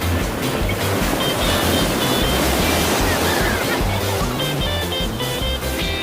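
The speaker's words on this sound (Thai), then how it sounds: "แต่ว่าคลื่นแรงมากเลยทุกคนสนุกมาก" Strong sea waves crash and roll onto a beach in loud, continuous surf, with wind noise buffeting the microphone and no clear talk.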